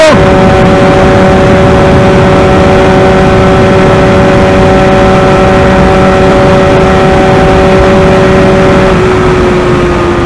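Benelli 302R motorcycle in sixth gear at about 170 km/h, racing a KTM RC 390: a loud, steady high-revving engine drone with heavy wind roar throughout, its pitch easing slightly near the end.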